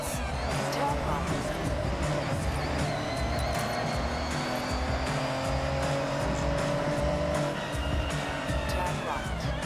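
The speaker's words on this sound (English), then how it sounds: "Nothing like the sound of a V8 engine" A V8 car engine in the Forza Horizon racing game roars loudly and steadily throughout, its pitch rising and falling with gear changes, with tire squeal and skidding mixed in and a voice talking over it.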